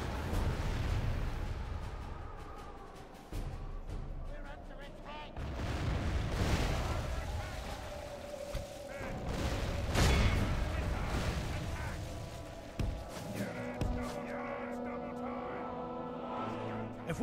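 Battle cinematic in a Third Age strategy game, with distant gunfire and heavy artillery booms rumbling and crashing across a long, dense stretch of combat noise.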